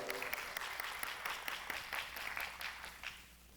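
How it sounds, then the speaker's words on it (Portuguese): Warm audience applause at a literary festival in São Gonçalo greets a writer as she is introduced, with dense, steady clapping from a moderately sized crowd that thins out near the end. "Gente, aplauso para a doutora Helena Teodoro."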